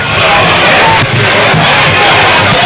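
A dense, roaring football playoff crowd at a 1990 Homewood versus Fayette County high school game yells and cheers continuously, loud and sustained throughout.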